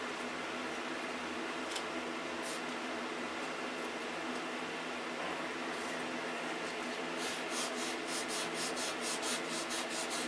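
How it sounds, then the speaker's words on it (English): Continuous abrasive sanding, a steady gritty rubbing that keeps on with no breaks, with some brief scratchy accents near the end. "How much sanding does it take?"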